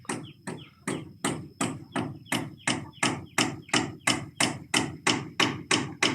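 Steady hammer blows ring out while a house is being built, about sixteen sharp, evenly spaced strikes close by, each with a quick ringing decay and no talk between them.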